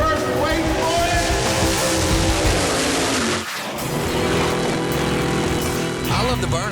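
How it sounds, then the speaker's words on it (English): Drag race cars doing burnouts at an East Coast Pinks event: loud, dense engine roar with tire screech, dipping briefly midway before surging again. "I love the burnouts more than anything."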